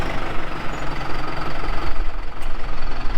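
New Case tractor idling nearby, a steady rough low engine throb with a knocking pulse, loud and unbroken with no talk over it.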